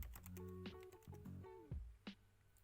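Typing on a computer keyboard, a quick run of close clicking keystrokes in irregular bursts, fairly quiet, with no talk.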